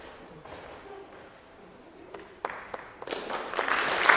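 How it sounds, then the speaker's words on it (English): An audience at a high school senior awards night begins clapping after a quiet, murmuring pause, the applause swelling from scattered claps into fuller clapping toward the end. "we'll do a round of applause."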